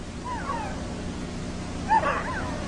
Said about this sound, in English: Wearing the whiskers of Neptunus caninus, Ricky, the veteran husky, presides as the pups become doggy shellbacks.